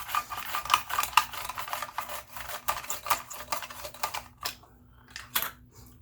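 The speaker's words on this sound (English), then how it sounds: "Let's cut some onion slices pretty thin and see how the mandolin slicer does with the onion." A mandoline slicer cuts thin slices from a large onion in quick, rhythmic rasping strokes, close and fairly quiet, slowing to a few sparse scrapes near the end.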